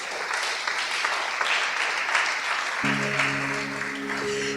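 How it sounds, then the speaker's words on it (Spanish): Steady applause from a church congregation fills the space, dense and continuous, with a sustained organ or keyboard chord entering partway through beneath the clapping. "Denle un aplauso."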